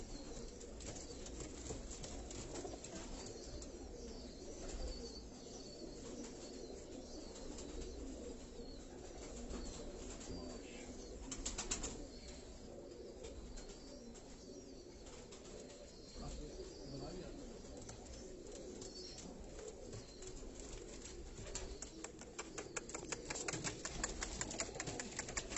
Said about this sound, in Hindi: वो माइग्रेट करके यहाँ वो कबूतर आए हैं